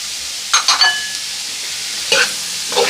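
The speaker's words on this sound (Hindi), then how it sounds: "और साथ ही थोड़ा सा 1 प्याज डाल रहे हैं।" Onion sizzling in a pan with potatoes while being stirred, a soft steady frying hiss broken by a few short scraping stirs.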